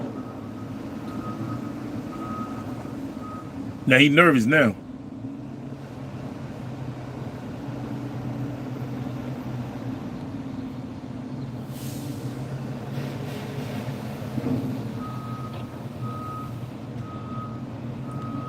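A truck pulls away with its reversing alarm beeping in a steady repeated pattern over a low engine rumble, with a short burst of louder noise partway through and someone speaking briefly.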